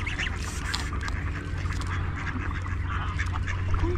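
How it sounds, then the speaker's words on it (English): Ducks quack among a noisy outdoor crowd on a ferry outing to Kladow in Berlin, over a constant low rumble. "out of all the ducks, they know who their mother is"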